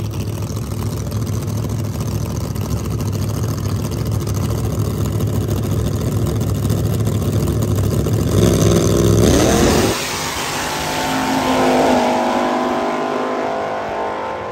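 The Ford Ranchero funny car at a Texas drag race, engine roaring loud and steady for about nine seconds, then cutting off sharply, with a second engine rising and fading in the distance afterward.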